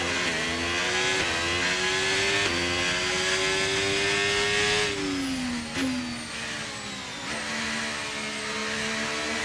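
Engine of an F1 car in the F1 25 racing game, a loud, continuous high-pitched whine rising through the gears, with several shift drops partway through and no talking over it.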